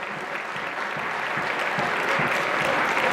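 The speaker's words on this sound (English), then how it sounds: "Entire committee, please give them a big round of applause." An indoor audience applauds the committee at a president's address, with steady, dense clapping that holds at a constant level for the whole stretch, with no voices on top.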